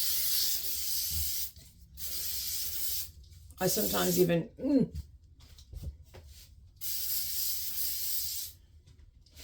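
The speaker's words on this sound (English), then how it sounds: "flip your head over, spray it. Spray your brushes and combs and picks" Static Guard anti-static spray hisses onto hair in several separate bursts, close and fairly loud, while someone speaks between and over the sprays.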